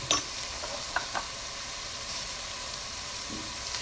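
Fennel for a tajine frying in a pan with paprika, a steady low sizzle close by, with a few brief clicks and stirring knocks near the start.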